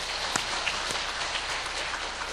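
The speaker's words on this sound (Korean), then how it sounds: "예배부를 위해서도 감사의 박수 드리겠습니다." Church congregation applauds at a worship service, a steady, soft, rain-like wash of many hands heard from some distance, with a couple of sharper claps standing out.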